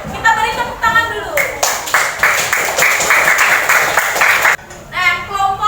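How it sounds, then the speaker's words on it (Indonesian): Students in a classroom clap for a presenting group, a brisk burst of rhythmic applause of about three seconds between a teacher's speech before and after. "Kita beri tepuk tangan dulu."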